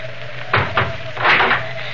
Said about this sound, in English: Then we'll close the shutters.